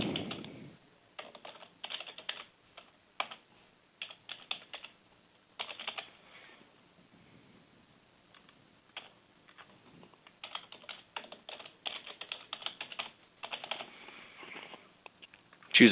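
Someone types an email address on a computer keyboard, with irregular bursts of quick, close key clicks separated by short pauses, fairly quiet and without speech.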